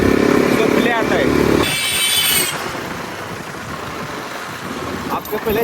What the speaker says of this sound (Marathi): अब गियर अप डाउन कर रहे तो ऐसा आवाज नहीं आ रहा है क्या जोर से? अभी देखो सेकंड गियर डाउन.